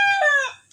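A chicken on a farm gives a single loud, close call that rings briefly and trails off into quiet.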